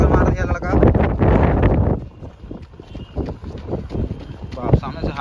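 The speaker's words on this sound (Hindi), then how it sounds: "सामने से हवा चल रहा है यार" A strong headwind on a sunny outdoor 5 km running test for SSC GD roars across the microphone, buffeting hard at first, then easing into gusty, uneven rumbles.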